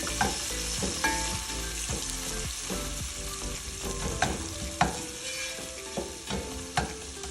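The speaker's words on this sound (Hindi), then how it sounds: "हमने ये प्याज डाल दिया, जिनको हम फ्राई करेंगे।" Chopped onions sizzle steadily in hot oil in a pan for masala bhindi, with a constant frying hiss and scattered clinks and scrapes of a utensil stirring.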